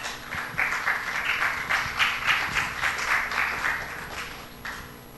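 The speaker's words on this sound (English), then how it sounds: "let's welcome Fifi Baidu, our next speaker, with a round of applause" An audience at a business festival applauds to welcome a speaker, a steady, moderately loud round of clapping that rises quickly, holds for several seconds, then fades away.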